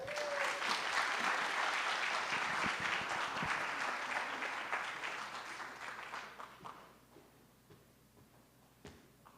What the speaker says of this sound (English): please give a round of applause to our superintendent, Michael Matsuda.